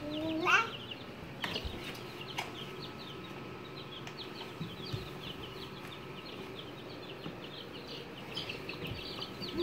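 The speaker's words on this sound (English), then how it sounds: "You wanna see the chicks?" Chicks in a pen clucking and peeping softly, faint scattered calls over a quiet indoor background, with one brief louder call near the start.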